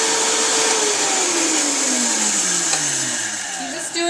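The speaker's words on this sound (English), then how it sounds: "Turn on your blender. That's on." A blender whirs loudly and steadily up close while making a smoothie, its motor pitch slowly sliding lower as it churns for several seconds.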